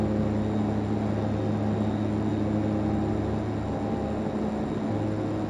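Twin Otter DHC-6-300 turboprop engines in Flight Simulator X hold a steady, loud drone at half thrust, a continuous even hum with no breaks and no voices.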